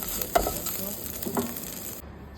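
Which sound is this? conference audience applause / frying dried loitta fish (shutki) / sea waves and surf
frying dried loitta fish (shutki)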